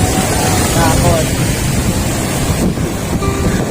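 Strong ocean waves roar at Patar Beach in Bolinao, Pangasinan, a loud, continuous wash of surf mixed with heavy wind buffeting the microphone.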